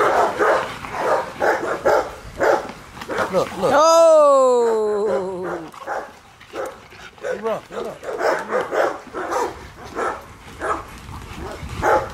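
Dogs let out a rising, whining yelp in the middle of the clip, with a man's close, steady talk running before and after it.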